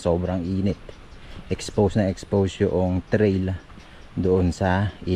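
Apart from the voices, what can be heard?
No distinct noise like a dog, phone or traffic.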